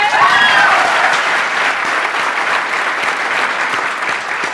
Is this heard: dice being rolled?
no